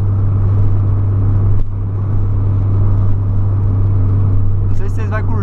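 Inside a Polo Sedan with a straight-pipe exhaust cruising on a highway, a loud steady engine drone and road rumble fill the cabin while someone talks over it.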